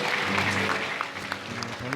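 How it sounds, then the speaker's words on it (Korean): Steady applause from an audience fills a hall at a Korean political party event unveiling a new name and logo, with an amplified voice speaking over it. "큰 박수 맞아주십시오"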